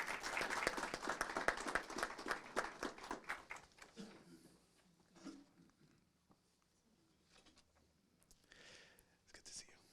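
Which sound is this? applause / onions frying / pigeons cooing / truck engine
applause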